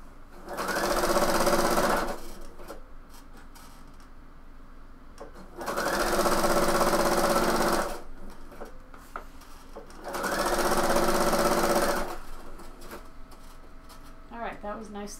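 A sewing machine runs a straight stitch on a bomber jacket in three bursts of about two seconds each, with quiet pauses between. It sounds close and loud, and a voice talks in the gaps.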